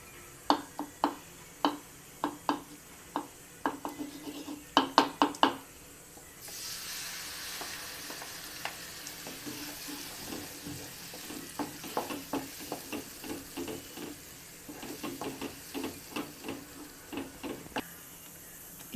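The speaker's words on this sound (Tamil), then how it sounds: "ஒரு பேனில் நெய் சேர்த்துட்டு அரைச்சி வச்சுருக்க பேஸ்ட்டு அதில் ஆட் பண்ணுறோம்." Carrot and milk paste cooking in ghee in a pan, with a string of sharp stirring taps and scrapes at first, then a soft steady sizzle with irregular clicks and spatters, close and fairly quiet.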